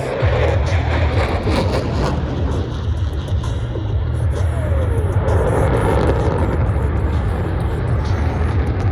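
A modern fighter jet pulling a maximum-performance turn at the Pacific Airshow on the Gold Coast gives a loud, continuous roar with wind buffeting, sustained for the whole stretch.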